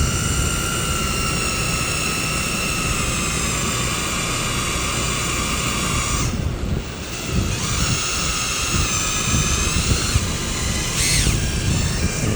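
A drill cuts through a 4L60E transmission part, giving a steady, loud high-pitched whine that briefly drops off twice as the cutting pauses and restarts.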